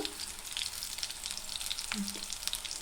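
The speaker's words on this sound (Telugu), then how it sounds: "ప్యాన్లో కొంచెం ఆయిల్ వేసి పచ్చిమిర్చిని కొంచెం ఫ్రై చేసుకోవాలి" Green chillies fry in a little oil in a pan, giving a soft, even sizzle with small crackling pops throughout a short stretch.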